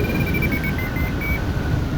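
Hang glider variometer beeping in a strong thermal, a thin, high repeating tone that pulses on and off irregularly over steady wind rush, with no talking.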